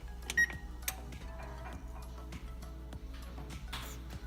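An oven control panel is set to broil; a short electronic beep sounds near the start, followed by faint ticking clicks over a low, rhythmic kitchen hum, with no talking.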